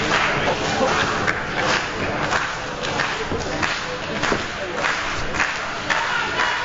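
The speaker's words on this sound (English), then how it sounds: "The crowd showing their support for both men and their admiration for this hard-fought back-and-forth matchup" A crowd at an AML Wrestling match between Lio Rush and Caleb Konley roars and chants in support, a steady wall of cheering with rhythmic surges and thuds, filling the arena at a moderate distance.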